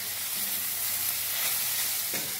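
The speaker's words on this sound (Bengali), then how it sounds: "এবার কচুরলতিটা আমার ভাজা ভাজা হয়ে এলে" Taro stolons (kochur loti) fry in a pan with a steady, close hiss of sizzling oil, broken by a faint scrape of stirring near the end, with no voices.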